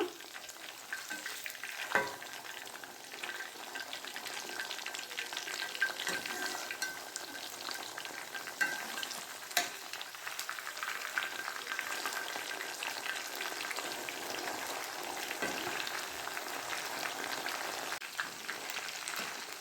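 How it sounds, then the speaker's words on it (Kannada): Chicken 65 deep frying in hot oil until crispy, a continuous fine crackling sizzle with occasional louder pops and stirring scrapes, steady and close with no talking. "ಚೆನ್ನಾಗಿ ಡೀಪ್ ಫ್ರೈ ಮಾಡ್ಕೊಂಬಿಡೋಣ ಗರಿ ಗರಿ ಆಗೋ ತನಕ"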